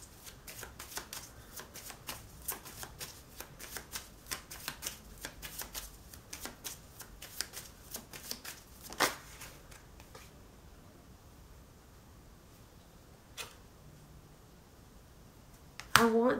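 Tarot cards shuffled by hand at close range, a rapid run of crisp riffling flutters and slaps for about ten seconds, then a quieter stretch with a couple of isolated card taps near the end.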